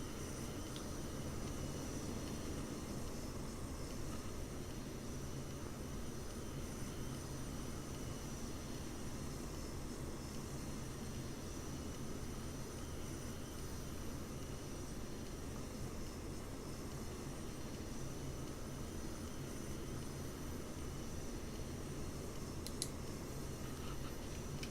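Dassault Mirage F1 jet engine in the DCS flight simulator on landing approach, gear down and full flaps with a little extra power, a steady, unbroken roar and whine that holds level throughout.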